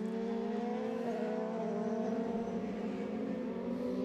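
Formula 3 race car at the Nürburgring passing at speed, a high steady engine whine heard at a distance, alone.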